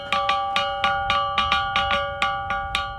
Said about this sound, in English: It's not a bell, but it's what we call the rock gong